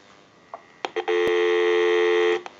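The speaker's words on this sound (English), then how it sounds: "So we'll go ahead and give you some dial tone," A General Electric 27909 cordless telephone gives a few short DTMF key beeps, then a steady dial tone that holds clearly for over a second before cutting off, with a faint electrical hum underneath.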